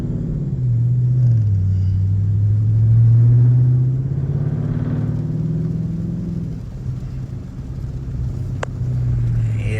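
A catless Dodge R/T's engine rumbles loud and close, swelling through a couple of deep revs and downshift blips before settling back toward a throaty idle, with a short sharp click near the end.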